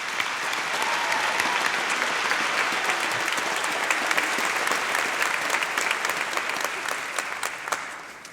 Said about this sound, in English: Go ahead and give them a big round of applause.